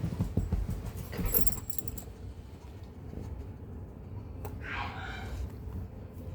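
A dog moves about indoors with its collar tags jangling in short metallic bursts, close by, over a low steady background hum.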